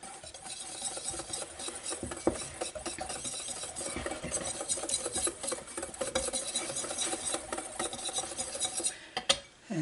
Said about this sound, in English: in a separate bowl, I'm going to take the flour, baking powder, and salt, and we'll just whisk this together well.